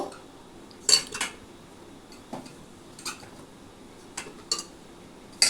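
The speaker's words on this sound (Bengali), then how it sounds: "এই প্রেশার কুকারের মধ্যে দেখো আমি বেগুনগুলোকে আগে সাজিয়ে দেবো" A few sharp clinks and clatters of eggplant pieces dropping into a metal pressure cooker, spaced irregularly with quiet pauses between them.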